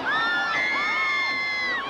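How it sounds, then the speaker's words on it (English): A packed stadium crowd at a 1994 BYU versus Utah college football game roars and cheers loudly and continuously, with high whoops and shouts rising over the din. "this crowd is going crazy"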